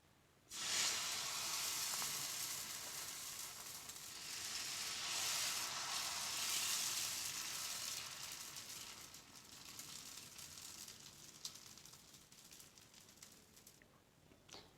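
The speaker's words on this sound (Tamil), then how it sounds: "இதில் தோசை மாவை ஊற்றிக்கலாம்." Vallarai keerai dosa batter poured onto a hot tawa bursts into a loud, hissing sizzle that starts abruptly, holds strong for several seconds, then gradually softens into a gentler crackle.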